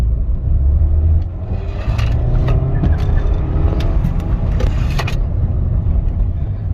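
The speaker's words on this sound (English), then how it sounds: "So that was wheel spin in second gear," A Stage 1 tuned Skoda Laura's engine roars under hard acceleration in second gear, loud and close, with the harsh scrabbling whine of tires spinning against the road.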